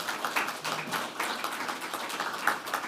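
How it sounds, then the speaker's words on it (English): An audience at an OSHA industry forum claps for a director. The applause is continuous and moderately loud, with a dense patter of hand claps that swells and dips over a few seconds and no talking over it. "And another round of applause for Director Ketcham."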